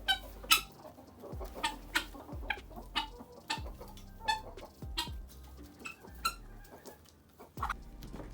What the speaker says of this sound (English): I checked on the chickens and gave them some more hay, water, and food.